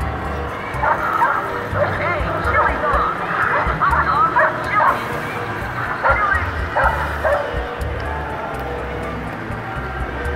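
A dog barks in quick yipping bursts mixed with whimpers, fairly close and repeated over several seconds while people talk nearby.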